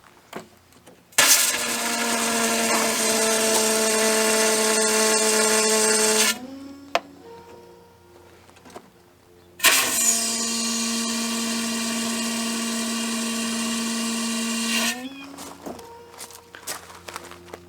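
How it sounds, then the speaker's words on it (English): Compressed air is forced out through RV water line drain valves in two long, loud bursts of about five seconds each, carrying a steady whistling tone over rushing air, with quieter clunks and handling noise between them. "Now that we have compressed air in our system, we can start blowing out the lines."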